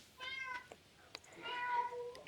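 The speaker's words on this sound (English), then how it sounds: "that is my cat shouting" A pet cat meows indoors, two drawn-out, fairly close calls separated by a short pause, with a faint tap between them and no talk.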